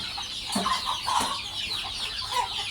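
Native village chickens clucking together in a pen, a steady chorus of overlapping clucks and short calls close by, with no talking.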